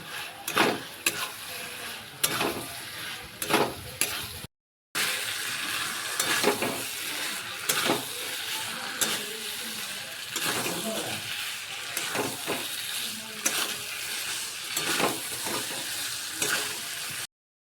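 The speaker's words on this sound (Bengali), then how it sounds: "এবারে ভেজে রাখা আলুগুলোকে দিয়ে দিচ্ছি। আলুগুলো কিছুক্ষণের জন্য ভালোভাবে কষিয়ে নেব।" Fried potatoes sautéed in oil-released masala for aloo dum, sizzling steadily in the pan with repeated stirring clinks and scrapes throughout, close and fairly loud, with one brief silent gap.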